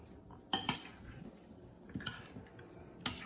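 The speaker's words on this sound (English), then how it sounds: "Then you just stir." A quarter cup of Mexican beer is being stirred into pico de gallo in a bowl, a few sharp clinks and scrapes of a utensil against the bowl standing out over quiet kitchen background.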